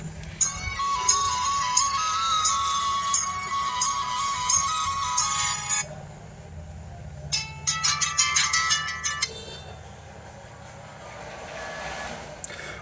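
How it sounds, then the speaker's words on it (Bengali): A Tensile T23 smart button phone's ringtone plays a bright electronic melody, stops, then resumes in a short repeating burst of tones before fading to quiet room noise. "ফোনটির রিংটোনের যে সাউন্ড সেটা কেমন ছিল চলুন দেখা যাক"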